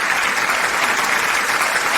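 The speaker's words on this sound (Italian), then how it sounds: "Un applauso." A television studio audience applauds steadily as a new guest is introduced on an Italian music show, with a dense, even clatter of clapping for the full two seconds and no voices on top.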